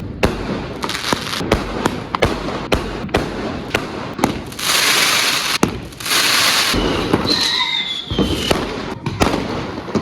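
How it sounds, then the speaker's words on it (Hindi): A 15-shot firework cake going off at a Diwali celebration: a rapid series of loud, close bangs and crackles, with a hissing shower mid-burst and whistling rises near the end. "अभी 2000 वाली लूम तोड़ेंगे। ये 15 शॉट है।"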